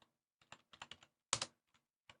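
Quick bursts of keystrokes on a computer keyboard, close and fairly quiet, in short uneven clusters separated by brief pauses, with one louder tap near the middle.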